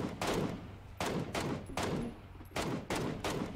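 Gunfire in PUBG comes as several loud, broadband bursts of rapid shots, about five separate volleys spread over a few seconds, close and unaccompanied by talk.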